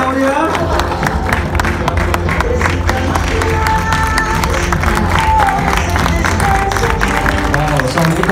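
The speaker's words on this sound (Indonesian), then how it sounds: "Sekali lagi, tepuk tangan yang meriah." Lively applause and cheering from guests at a company awards dinner in Surabaya, mixed with a crowd hubbub and loud music playing over it steadily throughout.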